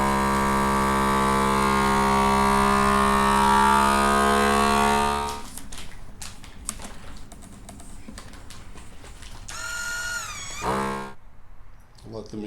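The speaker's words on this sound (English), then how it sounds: "Let the machine evacuate the oxygen out of the bag. It'll heat seal it and just let it do its job." A vacuum sealer pulls the air out of a bag of beans with a steady, droning motor hum for about five seconds. It then cuts off into scattered clicks and a short rising whine as the bag is heat sealed.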